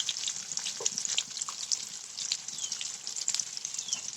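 Spices, chopped chili, turmeric and coriander powder frying in hot oil for an okra dish, with a bright continuous sizzle and light crackles as they are stirred in the pan, close up and without talk.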